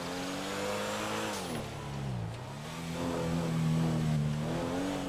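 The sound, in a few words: Rolls Royce Dawn car engine in GTA 5 video game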